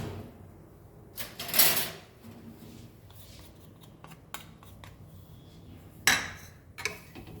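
A big spoon stirs and scrapes through a hara bhara kebab mixture in a bowl, giving a few loud scraping knocks mixed with softer shuffling sounds, irregular and close.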